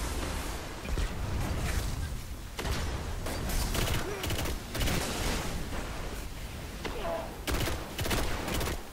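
Rapid gunfire from the video game Destiny on PS4, a dense, continuous fusillade with repeated thumping bursts and booms, loud and steady throughout with voices talking over it.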